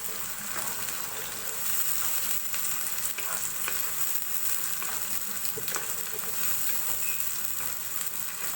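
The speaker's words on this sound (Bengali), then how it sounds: "আদা রসুন দিয়ে পেঁয়াজের সাথে ভেজে নেব।" Ginger and garlic fry with onion in hot oil for a wedding-style Bengali beef bhuna, giving a constant, loud, close sizzle and crackle with stirring scrapes and no talk.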